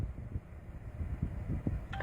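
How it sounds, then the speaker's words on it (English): A phone goes off with a short electronic tone, a brief beep near the end over soft, muffled background noise. "that was my phone that just went off"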